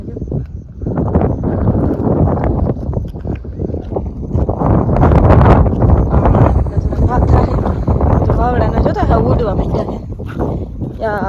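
Strong wind roars and buffets a microphone throughout on a village cotton farm, a loud continuous rush that swells in the middle, with bits of talk underneath.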